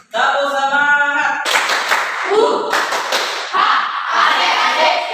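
Group of children in a classroom doing a rhythmic spirit clap, a dense burst of hand claps and chanting voices that continues steadily, loud and close throughout.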